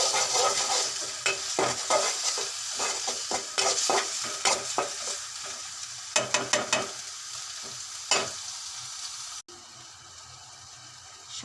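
Ginger-garlic paste, onion and chilli hit a pan together and get stirred, a steady close sizzle broken by repeated sharp scraping strokes of a spoon, easing off in the last seconds.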